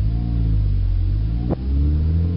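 A manual-transmission car engine drones steadily at low revs, then the sound dips sharply for an instant as the gear changes quickly and picks right back up, heard close and loud with no voices.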